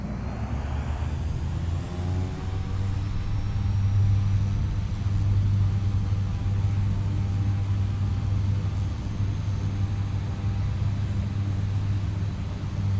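Airliner engines spool up for takeoff in Microsoft Flight Simulator 2020, a steady loud low rumble and drone with rising whine, continuous throughout with no talking.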